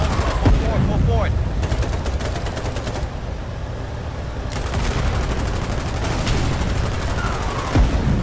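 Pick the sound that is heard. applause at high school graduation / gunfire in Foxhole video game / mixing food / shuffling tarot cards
gunfire in Foxhole video game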